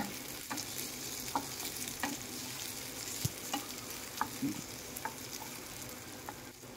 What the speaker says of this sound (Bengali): তাতে তেল দিয়ে, সরিষার তেল দিয়ে, এর মধ্যে পেঁয়াজ কুচি, রসুন এবং কাঁচামরিচ দিয়ে একটু হালকা করে ভেজে নিতে হবে